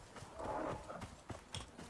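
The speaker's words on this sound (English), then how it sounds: "that's a horse" Horse hooves clip-clopping in the survival game Icarus, a few soft irregular hoof falls in the middle distance over faint game ambience.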